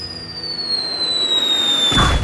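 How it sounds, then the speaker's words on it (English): A fireball spell in the South Park video game builds as a rising whistling whoosh with a steady descending tone, then bursts into a loud explosion at the end. "Have my fireball."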